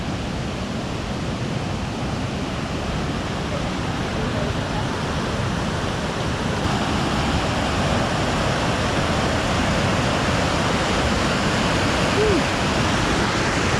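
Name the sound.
creek water flowing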